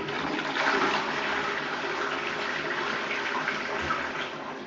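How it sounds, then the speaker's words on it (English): A Wallgates public toilet in Stubbington, Hampshire flushes with a loud, steady rush of water that holds evenly throughout, close up and with no voices over it. "Flushes are alright, I suppose."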